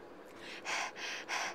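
A child breathes right against the microphone, three loud breathy puffs with short pauses between them and no talking.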